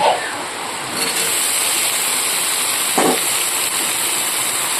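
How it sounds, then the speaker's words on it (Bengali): Steady rain falling outdoors, a loud continuous hiss with a couple of brief knocks, no voices. "আমাদের এখানে বৃষ্টি এসে গেছে বন্ধুরা কিছু করার নাই এই দেখুন বৃষ্টি হচ্ছে"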